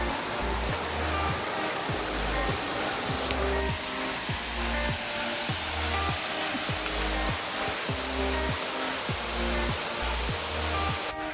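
Trishi Waterfalls near Jowai in Meghalaya roar as a steady, dense rush of falling water, loud and continuous throughout with no talking.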